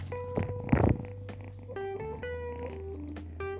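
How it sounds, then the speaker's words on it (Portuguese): A young kitten purrs softly up close, a low steady rumble with a brief louder rustle near the start and a faint tonal hum underneath. "Pietro, dá uma ronronada aí."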